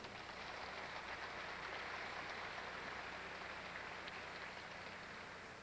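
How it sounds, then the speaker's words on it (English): Steady, fairly quiet applause from a pageant audience at the Miss Gay America 1990 awards, a dense even wash of clapping that continues unbroken for several seconds with no voices over it. "a nice round of applause for those people, please"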